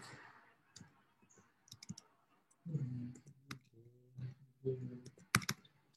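Keys on a computer keyboard clatter in short irregular bursts of clicks and taps, close by, with a faint bit of low background noise between strokes.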